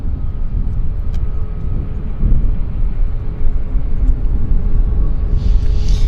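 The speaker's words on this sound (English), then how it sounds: "Oh, we got an aircraft rolling on the north-south side." Steady low rumble of an aircraft rolling along the north-south side of Vancouver airport, heard from a distance as a continuous broadband roar with a faint hiss rising near the end.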